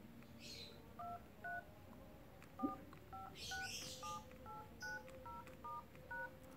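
Keypad dialing tones from a Vivo Y12 phone sound as a series of short, evenly spaced beeps, about a dozen in sequence, faint and clean with light background noise.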